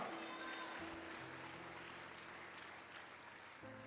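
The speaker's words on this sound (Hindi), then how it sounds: "ताली बजाकर धन्यवाद करो मेरे परमेश्वर का।" A church congregation at a sermon claps together in thanks to God, giving a faint, steady wash of hands that carries on evenly for several seconds under a low, sustained hum.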